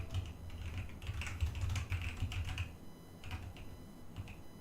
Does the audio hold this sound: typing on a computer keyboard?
yes